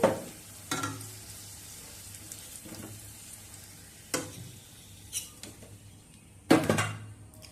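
Potatoes with turmeric frying in oil, a quiet steady sizzle punctuated by several louder spatula clanks and scrapes against the pan at irregular intervals.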